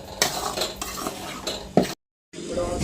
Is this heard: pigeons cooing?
no